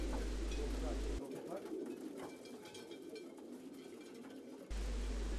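Racing pigeons coo steadily inside a loft at a club's pigeon sport venue, with their soft, layered calls going on continuously and close by while other birds murmur in the background.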